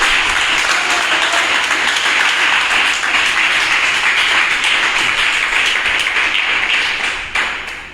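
A church congregation applauds during a Spanish-language sermon, with dense, loud hand clapping sustained for about seven seconds that then tapers off, and no one speaking over it.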